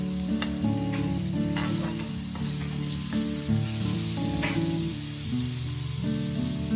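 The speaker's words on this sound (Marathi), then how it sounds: "आता पाव गरम करून घेऊ पॅनवरती थोडंसं बटर टाकायचं" Butter sizzles steadily in a pan as pav is warmed for hotel-style pav bhaji, a soft continuous hiss with a few brighter crackles, heard under steady background music.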